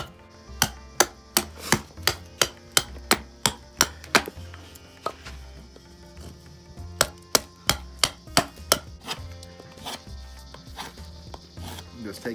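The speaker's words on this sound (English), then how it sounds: "take the knife and just kind of smooth things out just a little bit" Knife carving a wooden spoon for a beginner project, giving a series of sharp, regular wooden cuts close by, clustered in two bursts with a short pause between, with no talking.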